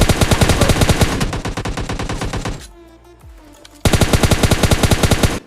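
Rapid automatic gunfire from a battle royale shooter game as an enemy player gets knocked, loud bursts of fast repeated shots that pause briefly and then resume.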